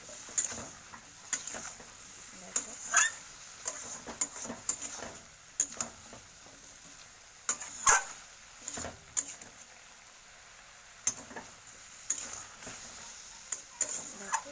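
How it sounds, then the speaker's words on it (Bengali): Vegetable stems in a pan with salt and turmeric being stirred, soft scattered ticks and clinks of a utensil against the pan in an irregular rhythm, quiet and close, no talk. "পরিমাণ মতন হলুদ এটাকে দিয়ে আমি বেশ সুন্দর করে মিশিয়ে দেবো নাড়িয়ে"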